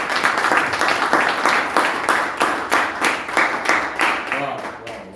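An audience at a network-marketing seminar claps in a steady rhythmic beat, roughly two claps per second, loud and unison-like, gradually softening toward the end.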